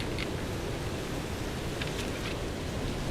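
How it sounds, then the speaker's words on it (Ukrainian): A steady broadband rush of strong wind fills the clip, constant and unbroken, with no voices. "Вітер просто ураган."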